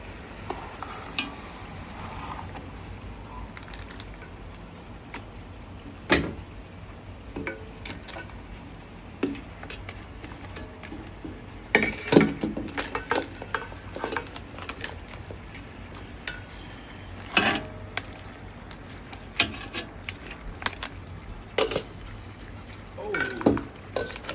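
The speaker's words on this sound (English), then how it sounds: "And we're going to add that lobster to this." Lobster pieces stirred into a cooking pot for a Caribbean dish, with steady low sizzling and frying under repeated scraping, clattering stirs and utensil knocks against the pot that grow busier and louder in the second half.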